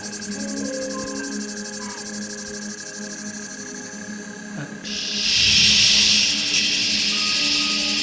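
A dense, steady cicada song shimmers throughout, with a softer layer of insect buzz at first. A louder, brighter surge of droning swells in about halfway through and holds to the end.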